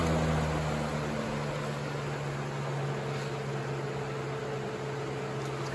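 Lasko 3733 black box fan running on medium, a steady broadband whoosh of moving air with a faint low hum underneath, constant and close, with no talking.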